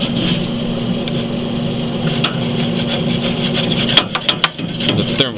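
Scraping and rubbing on a grill grate being scrubbed clean, a continuous close grinding with a low hum underneath, turning into sharper separate strokes near the end.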